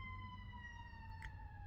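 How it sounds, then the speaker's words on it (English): Emergency vehicle sirens sound faint and distant, a steady high wail holding level under quiet background traffic rumble, with no voices nearby. "distracted by the sirens"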